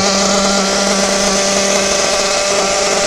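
A SPOWER S6TT model engine runs during break-in, a loud, steady high-pitched buzzing drone with constant pitch and no change in throttle, close and alone.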